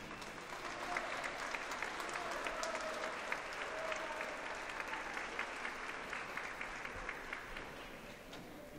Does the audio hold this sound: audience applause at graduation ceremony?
yes